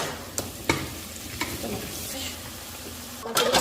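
Okra being stirred into onions with turmeric and chopped green chilli in a frying pan, a steady sizzle broken by several sharp scraping strokes of the spoon against the pan.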